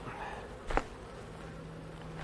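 Honey bees buzz faintly around a honey frame during a fall harvest shake test, a soft steady hum with one short louder burst and a low tonal drone.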